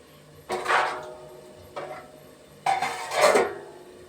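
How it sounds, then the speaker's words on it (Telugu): A lid is set onto a cooking pot in a home kitchen, giving three separate metallic clatters and scrapes, close and fairly loud, the last one longest, with no talking. "మూత పెడతాను."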